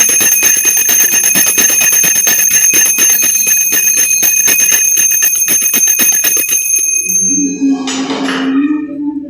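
A bell rung during a home puja clangs rapidly and continuously, loud and close with a bright ringing tone, before it stops and a different, softer sound takes over near the end.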